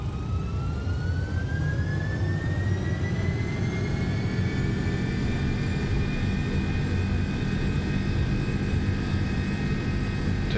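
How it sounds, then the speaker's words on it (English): The jet engines of an MD-11F freighter spool up to takeoff thrust in a flight simulator, a loud, steady roar with a whining tone that climbs gradually and then holds, with no talk. "Takeoff thrust set."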